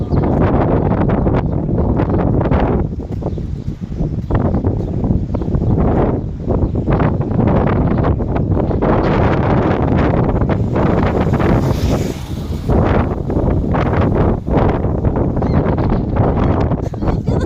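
Strong wind buffets the microphone in heavy, continuous rumbling gusts, loud and close, drowning out most other sound.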